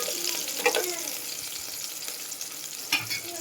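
Khichdi ingredients of onion, potato, tomato and lentils sizzle steadily in a hot pan, with a few soft scrapes and clinks as they are stirred, close by and moderately loud.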